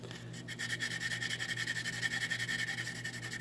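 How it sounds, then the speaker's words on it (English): Very fine metal sandpaper scrubs back and forth on the corroded contacts of a GE Profile JTP95 oven bake coil, a steady rhythmic rasping rub that is close and continuous over a low electrical hum. "Using a metal sandpaper, which is a very fine sandpaper meant for metal."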